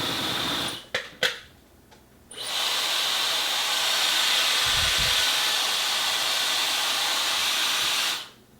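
A Dyson Supersonic hair dryer with its diffuser attachment fitted blows a loud, steady broadband rush of air that runs for about six seconds, after brief start-stop bursts near the beginning, and then cuts off.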